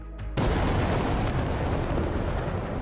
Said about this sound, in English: Korean experts say the explosion was designed to cement the growing power of Pyongyang leader Kim Jong-un's younger sister, Kim Yo-jong.